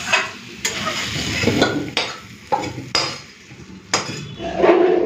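Pointed gourd and potato pieces frying in a pan, a continuous sizzle broken by sharp, regular scrapes and knocks of a spatula against the pan, close and fairly loud, with no one speaking.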